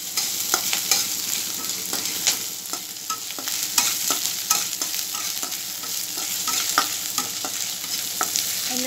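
Onions sizzle steadily in hot oil in a pan for a prawn masala curry, with frequent spoon scrapes and clicks as they are stirred. Close and continuous, with no talking.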